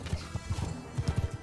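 Horses galloping in the medieval combat game Mount and Blade Bannerlord, a rapid run of close, heavy hoofbeats thudding in uneven clusters with no talk over them.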